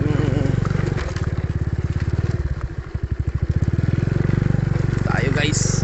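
A motorcycle engine runs close by with a rough, pulsing putter that rises and falls as it rides, joined by clattering and a brief high whine near the end.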